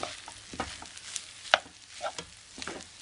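Food stir-frying in a pan with oil: soft scraping stirs and a few sharp clinks of a utensil against the pan over a quiet background sizzle, close and fairly faint, with no talking.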